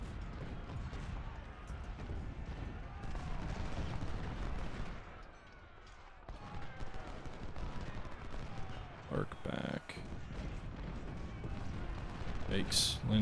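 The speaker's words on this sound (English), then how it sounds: "Lynch, you are eating some serious canister fire here." Canister artillery fire thumps and cracks in Ultimate General: Civil War, scattered booms and bursts under a continuous battle din, with someone talking over much of it.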